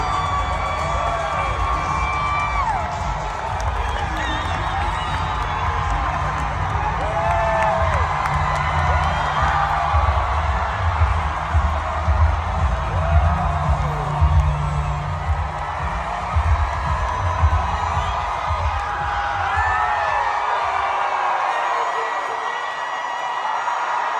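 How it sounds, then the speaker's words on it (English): A huge outdoor rally crowd in Idaho cheers for AOC and Bernie Sanders at a Fight Oligarchy tour stop, with a sustained dense roar, scattered whoops and shouts, and brief claps running steadily throughout. "just look at the crowd that came out to support AOC and Bernie Sanders as part of their Fight Oligarchy tour"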